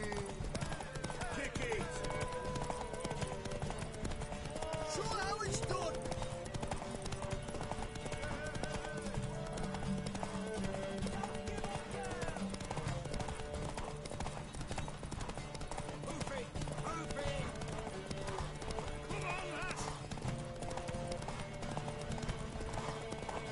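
A horse gallops in the video game Witcher 3, its hooves clip-clopping steadily throughout under game music and voices.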